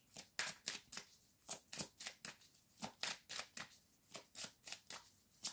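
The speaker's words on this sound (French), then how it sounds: "prendre 3 cartes." Tarot-style cards drawn and handled during a card reading, a brisk run of close, crisp flicks and slaps in an even rhythm, about two each second, with no talking.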